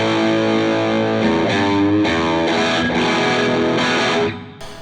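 Distorted electric guitar played through an amp 11 model with a boost pedal engaged, thick saturated chords in choppy rhythmic bursts, loud and alone before cutting off near the end.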